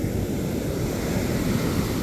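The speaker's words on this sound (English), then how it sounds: "That's why I like to be right over there in front of these two buildings where them waves are breaking different." Ocean waves break on Rosarito Beach on an overcast day, a continuous low rumbling surf wash heard fairly close with wind buffeting the microphone, no voices.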